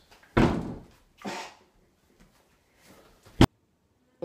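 Heavy thumps against a door sound out as a person pretending to be a gorilla punches it: two broad, booming hits, then a quieter lull and a final sharp slam.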